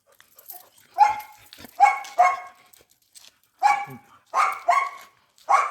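Several dogs bark in the morning at a home with five dogs and puppies, sharp separate barks in irregular bursts, fairly close, with short quiet gaps between them.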